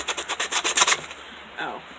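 Sandpaper rubbed over painted paint-stick wood for a worn finish, giving about eight quick, close, rasping back-and-forth strokes in an even rhythm, then a brief pause and a fainter scrape.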